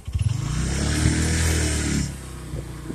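A motorcycle rides over beach sand in a coconut grove by the shore, its engine chugging then holding a loud, steady drone before cutting away abruptly.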